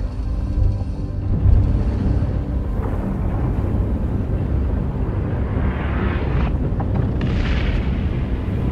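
A deep, sustained rumbling roar like a large explosion in the video game INSIDE, loud and continuous with a low boom near the start and hissing debris toward the end.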